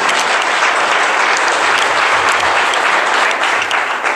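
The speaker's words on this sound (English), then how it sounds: "Please give me a big round of applause." An audience at a business opportunity presentation breaks into loud, sustained applause, a dense and even roar of many hands clapping close by, with no talk over it.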